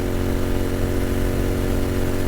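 A Royal Enfield Continental GT motorcycle runs at full throttle at about 80 mph up an incline. Its engine makes a loud, steady, close drone with a constant low rumble and no pauses.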